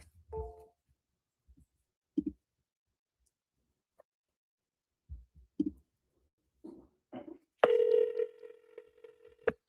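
An outgoing telephone call: a few faint, scattered clicks and dialing beeps, then a steady ringing tone near the end, heard alone in a quiet room.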